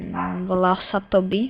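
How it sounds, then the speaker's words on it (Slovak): A pet dog named Toby barks and yips a few times close by, the short bursts landing between and over a Slovak speaker's voice. "Prepáčte, to bol môj pes."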